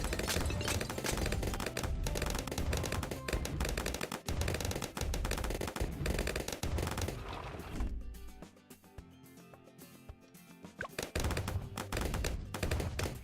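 Mortar towers fire steadily in the Bloons TD 6 tower-defense game, a dense, continuous barrage of rapid percussive blasts that dips briefly into a quieter stretch before the loud volley resumes.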